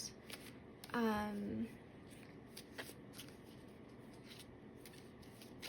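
Tarot cards are shuffled in short, crisp riffles and soft slides close to the microphone, with a brief hummed voice early on and light handling noises between shuffles.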